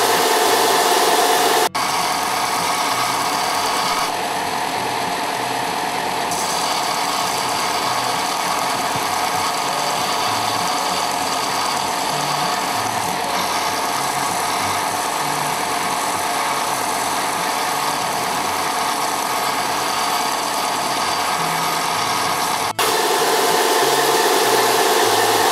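A speargun spear point being sharpened with a second bevel on a grinder: a continuous loud, steady high-pitched grinding whine that holds for about twenty seconds with slight changes in tone as the shaft angle shifts.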